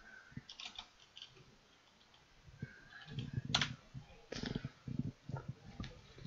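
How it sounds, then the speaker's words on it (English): Typing on a computer keyboard gives faint, irregular clicks and taps in quick bursts, heard close but quiet. "I'm just typing something."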